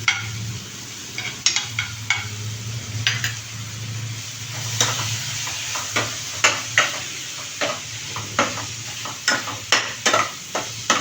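Chicken pieces stirred in melted butter in a pan for chicken curry, a low steady sizzle punctuated by repeated sharp scraping clanks of a spoon against the pan, close and regular, with no talking.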